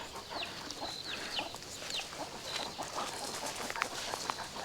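Chickens cluck at a distance near a cage outdoors, with several short calls scattered over a steady background hiss.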